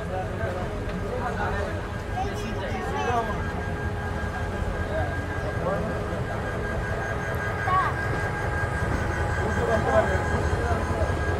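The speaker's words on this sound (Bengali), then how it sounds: "4:40 আমাদের ট্রেন ছেড়ে দিল ময়মনসিংহ জংশন থেকে।" Mohanganj Express pulling out of Mymensingh Junction, a steady low rumble of the moving train with rail clatter and passenger chatter mixed throughout at even loudness.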